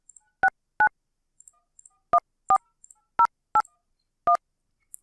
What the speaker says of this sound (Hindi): ये मैंने नंबर इसका डायल कर दिया।